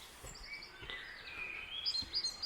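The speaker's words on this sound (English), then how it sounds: "It's amazing to hear all the little birds tweeting on in the morning." Faint, high bird chirps and tweets scattered over a soft outdoor hiss, a few small birds calling at a distance in the morning along the River Derwent.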